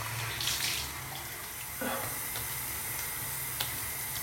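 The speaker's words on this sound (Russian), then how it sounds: "сейчас я возьму вот этот вот полотенце, замочу его, как говорится, в горячей воде" Hot tap water runs steadily into a sink while a towel is soaked before a straight-razor shave, a continuous quiet splashing wash with a few brief louder spurts.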